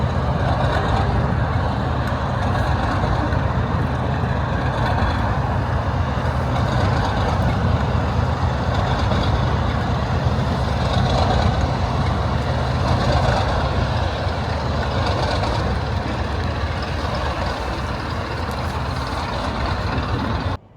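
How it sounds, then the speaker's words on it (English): A Class 121 bubble car diesel railcar arrives into Crewe, heard from a distance as a steady, broad rumble of engine and track noise that holds at an even level throughout, with no talk. "So we have seen the Class 121 bubble car arriving back into Crewe."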